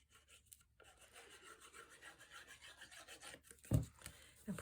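A pressed paper flap being burnished down in papercraft, soft intermittent rubbing strokes, quiet and close, with a couple of louder scuffs toward the end.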